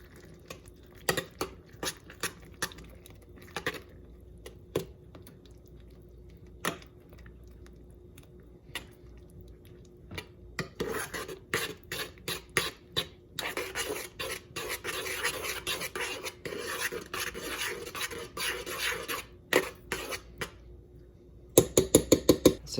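A spoon stirs grated cheese into a pot of kidney bean soup, giving irregular scraping and wet clicking strokes up close. The strokes grow busier midway and end in a few sharper knocks.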